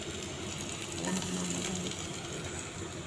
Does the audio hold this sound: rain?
no